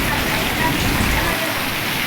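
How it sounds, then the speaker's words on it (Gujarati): Heavy rain pours down steadily on a Gujarat village during a storm, a dense, continuous close hiss of water on surfaces with no break across the whole stretch. "આજે અમારા ગામમાં પડે છે વરસાદ"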